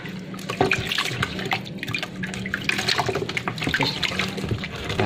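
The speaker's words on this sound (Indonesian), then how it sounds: "kalian rendam lagi di air" Water splashes and trickles close by as a pet iguana is soaked and rinsed during a bath, a steady run of drips, sloshes and pouring with no talking.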